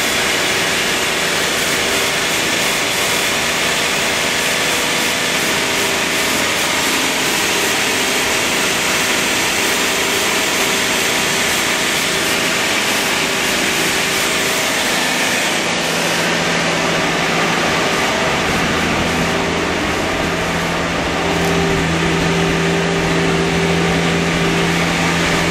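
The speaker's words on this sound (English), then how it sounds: "The idle's pretty high still." An AMC Eagle engine fitted with a Nutter bypass runs at a high idle, a loud, close, steady drone that holds its pitch without revving for the whole stretch.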